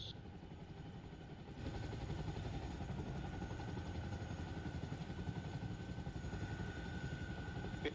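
Helicopter touching down in the military video game Arma Reforger, a steady rotor and engine drone that jumps slightly louder after a couple of seconds and holds there, fairly quiet overall with no talk.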